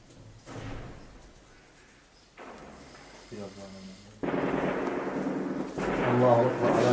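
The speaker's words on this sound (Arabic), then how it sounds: "طبعا هذا صوت اطلاق النار هو" Gunfire from armed clashes in a bombed neighborhood of Deir ez-Zor in 2012, heard as dull distant thuds and bursts that swell into a louder, sustained crackling roar toward the end, with no talking.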